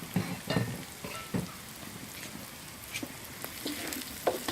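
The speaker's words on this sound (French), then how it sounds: "On le rajoute au poivron, aux oignons et à l'ail. Voilà. Et on fait revenir le tout." Sliced strong chorizo frying in a pan with peppers, onions and garlic for paella, a steady soft sizzle with scattered stirring clicks and scrapes, close and moderately quiet.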